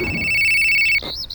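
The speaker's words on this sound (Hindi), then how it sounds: "उसी वक्त विक्रम के मोबाइल पर रिंग बजती है" A mobile phone ringtone in a cartoon trills as a steady electronic tone for about a second, then cuts to a short warbling melodic phrase, loud and close with no talk.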